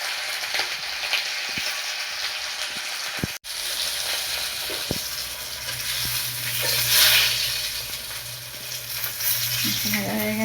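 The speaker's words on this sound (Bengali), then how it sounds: "এবার মাছ ভেজে নেব।" Pieces of rui fish frying in hot oil in a pan make a steady crackling sizzle throughout, broken by a few sharp clicks and one knock, with no voices.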